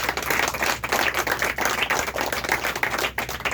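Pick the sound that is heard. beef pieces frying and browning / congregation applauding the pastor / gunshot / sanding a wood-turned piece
congregation applauding the pastor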